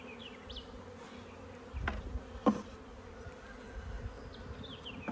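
Honeybees buzz steadily in and around a hive holding brood, pollen and nectar, a close, continuous hum with a couple of brief knocks.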